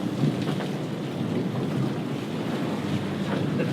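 The racing sailboat Biotherm charges along at over 30 knots, a dense roar of wind buffeting and rushing water and spray, loud and continuous with no voices.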